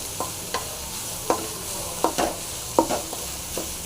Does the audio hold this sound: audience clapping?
no